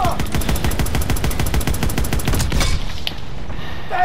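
Machine gun fire in the World War II shooter Call of Duty: WWII: a loud, rapid, evenly spaced burst of shots that runs for over two seconds, then cuts to a brief bang and quieter background.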